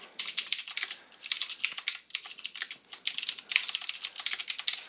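Steady, fast typing on a computer keyboard, close up, a dense patter of key clicks with brief pauses and no talking.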